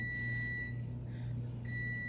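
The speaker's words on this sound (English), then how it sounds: "that timer is going off" A kitchen timer beeps with steady electronic tones in a quiet room. A low hum runs underneath, and the beeping briefly drops out partway through.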